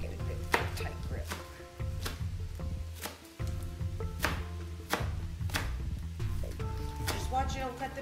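A knife chopping fresh onions on a cutting board, a run of sharp, close, regular chops under background music.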